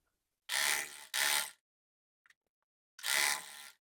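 A sewing machine stitches a joint in saree fabric, running in three short, loud mechanical bursts with a pause before the last one and no talking.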